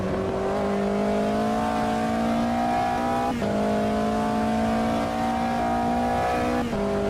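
A P4 race car in Automobilista 2 at Spielberg GP sliding while held on the throttle, its engine droning loud and steady at high revs with brief dips at gear changes.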